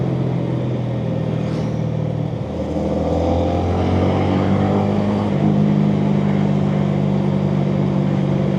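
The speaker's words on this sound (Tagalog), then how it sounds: "Very smooth engine braking." A Honda Winner X motorcycle downshifting under engine braking, its engine note dropping in pitch then settling to a steady hum, heard close up.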